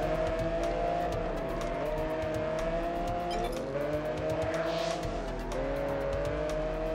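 Racing cars roar through a long race in the Test Drive Unlimited video game on PS2, engines droning steadily with shifting pitch as they accelerate, while tires squeal now and then, all without talk.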